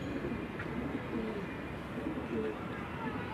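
Pigeons coo softly on a rooftop in a steady low murmur of repeated calls, set against constant outdoor background noise.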